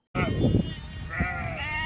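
Sheep bleat loudly and close by, a wavering cry near the start followed by a second drawn-out bleat, over a busy background of animal noise.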